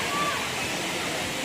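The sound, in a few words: river water flowing continuously near a cave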